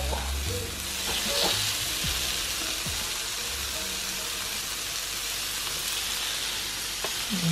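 Steaks sizzle steadily on a hot grill, a close, crackling hiss with occasional pops and faint clinks throughout.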